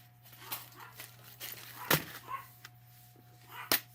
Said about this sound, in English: That is Bindi barking upstairs